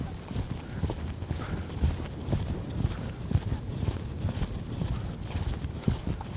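A horse lopes steadily, its hoofbeats a continuous rolling thud on the ground, moderately close, with faint background noise and little talk.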